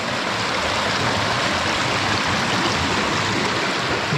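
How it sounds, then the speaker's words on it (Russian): River rapids rush and roar in a steady, loud, continuous wash of fast-flowing water, close by, on a river where beaver dams have been torn open and the water is breaking through. "Вот такие пороги."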